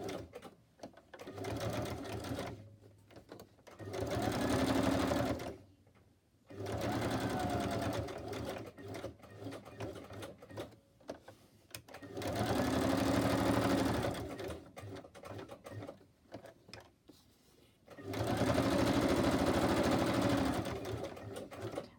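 Sewing machine stitching around the border of a handmade tag made from old book pages, running in steady whirring bursts separated by short pauses, close and moderately loud.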